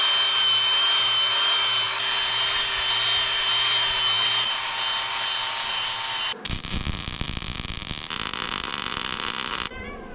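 A power drill whines loudly and steadily, then the pitch shifts as the bit bites in, running continuously before cutting off near the end.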